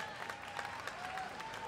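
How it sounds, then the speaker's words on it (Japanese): Audience applause in the venue at a Tokyo Game Show Clash Royale match, fairly faint scattered clapping from the crowd heard under a commentator's voice. "さあ場内拍手"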